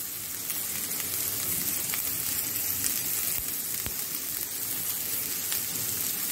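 Onion and vegetables go into a hot pan and sizzle steadily, giving a dense, even hiss that holds constant throughout with no voices.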